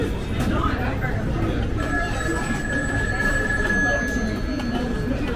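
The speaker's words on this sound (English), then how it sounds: "The phone is ringing." An old telephone ringing at a busy Clifton Hill tourist attraction at Niagara Falls, a sustained bright electric ring lasting a few seconds amid loud crowd chatter and spooky ambience.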